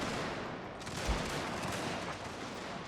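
Distant volleys of musket gunfire crackle in a Prussian-campaign strategy video game, a dense, continuous rattle of shots with one heavier thump partway through.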